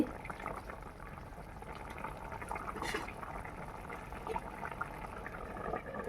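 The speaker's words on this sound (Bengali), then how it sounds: "দেখতেই পাচ্ছেন এঁচড়ে ঝোলটি ফুটে গেছে ভালো করে নেড়ে চেড়ে দিচ্ছি" Jackfruit curry bubbling at a steady boil in a pot while it is stirred, giving a continuous wet, churning hiss at moderate level with no talk over it.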